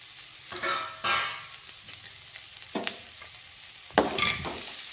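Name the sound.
frying chopped cabbage in a pan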